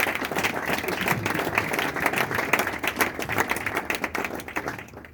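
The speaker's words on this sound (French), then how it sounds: "Est-ce qu'on peut acclamer pour le Seigneur?" A church congregation applauding in praise: dense, continuous clapping from many hands fills the room, holding steady and then fading out abruptly at the end.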